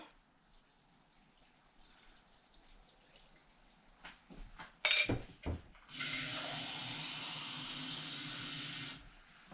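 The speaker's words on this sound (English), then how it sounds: "So now I'm going to pour the water." Tap water running into a container holding salt, a steady hissing stream lasting about three seconds after a few soft clatters and knocks of handling.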